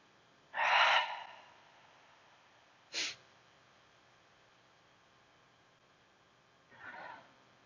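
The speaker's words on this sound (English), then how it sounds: "inhale through your nose and exhale, sigh your breath away" Slow, sighing exhales through the nose and mouth during a calming yoga-for-sleep breathing exercise: a loud breathy release, a short sharp breath a couple of seconds later, then a softer exhale near the end, with quiet pauses between.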